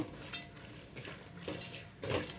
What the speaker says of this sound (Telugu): వేయించి పెట్టుకున్న అటుకులను అయితే వేసుకోవాలి